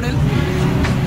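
Heavy road traffic rumbles steadily on a congested route during a festival temple visit, with dense low engine drone and people talking over it.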